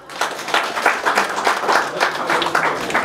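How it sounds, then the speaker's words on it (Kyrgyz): Guests at a circumcision and family celebration in Krasnoyarsk break into steady applause, a dense roomful of clapping that keeps going evenly from start to finish. "Кол чаап койгула, кол боштор."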